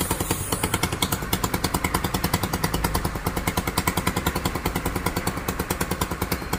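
An old motorcycle engine running after being started, a rapid, evenly pulsing putter with sharp mechanical clatter, loud and close throughout and heard alone.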